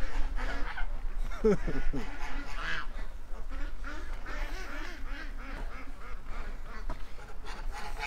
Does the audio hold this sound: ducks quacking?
yes